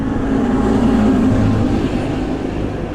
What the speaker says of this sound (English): Pesky tractor just gone past, the big one at that.